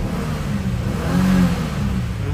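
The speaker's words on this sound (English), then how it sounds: "Just give the car a quick rev as well while I'm here." A 2022 Subaru WRX with a 6-speed manual gearbox idles, then gets one brief, quick rev that swells and falls back to a steady idle, heard up close with no talking.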